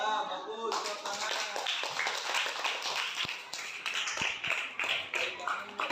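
A classroom of schoolchildren claps hands in a brisk, uneven burst that starts after a short pause and continues to the end, with children's voices mixed in.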